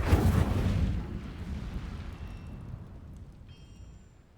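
A fiery Incendio spell blast in Hogwarts Legacy bursts loudly with a deep rumbling whoosh, then decays over a few seconds with a faint chime near the end.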